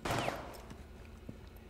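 A loud gunshot in the video game Rainbow Six Siege, a sharp burst at the start followed by a ringing tail and a few fainter distant shots.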